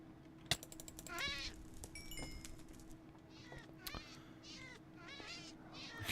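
Cats meow repeatedly in a modded video game during a crypt run, with several rising and falling cries spread across the clip over a faint steady hum and occasional clicks.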